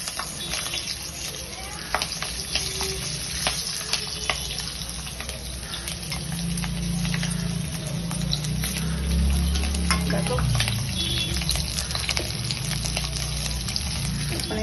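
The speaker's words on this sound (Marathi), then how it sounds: "आपण डीप फ्राय करून घेते." Spinach pakoras deep frying in hot oil, a loud continuous crackling sizzle that thickens partway through, with scattered pops and a faint voice at times.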